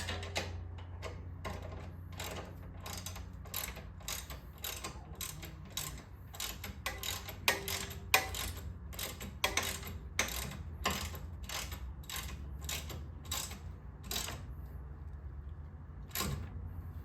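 Rapid, rhythmic ratchet clicks from a wrench tightening a bolt for the rear crash bar on a 2009 Police Special motorcycle, many quick close strokes in a steady series.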